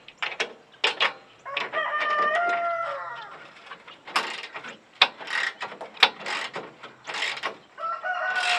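Ratchet clicking while tightening bolts on an outdoor solar tracker build, several bursts of rapid close clicks, with a rooster crowing in the background.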